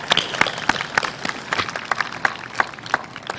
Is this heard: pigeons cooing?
no